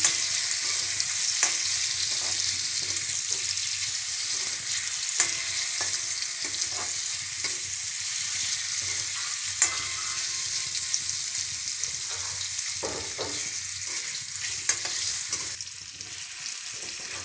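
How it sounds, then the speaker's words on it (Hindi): Paneer cubes frying in hot oil in a home kitchen, a steady loud sizzle with crackling pops and occasional stirring clatter throughout, no talking. "तेल में सेक के निकाल लूँगी"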